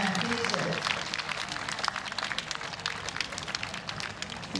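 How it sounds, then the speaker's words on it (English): A crowd cheers and applauds for a rider at the equestrian FEI World Championships 2022 arena, a broad sustained roar with scattered claps that holds steady and eases slightly toward the end, with some voices mixed in. "they're giving him a big cheer in return"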